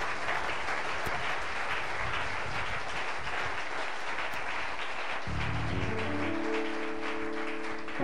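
A church congregation at a Pentecost service claps and applauds together in a dense, sustained wash, with sustained musical tones joining partway through.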